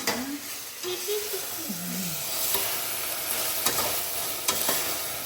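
Brinjal and broad beans with salt sauté in a pan, giving a steady close sizzle with scraping stirs, while a voice briefly sounds over the cooking early on.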